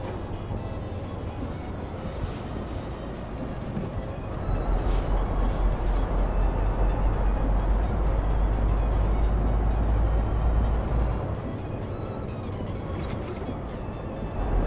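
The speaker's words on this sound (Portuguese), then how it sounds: "Tem que ligar a retarder, freio do motor." A MAN 520 hp truck pulling a bitrain trailer in Euro Truck Simulator 2 rumbles with its engine brake retarder engaged, a deep steady drone that swells louder through the middle and then eases off.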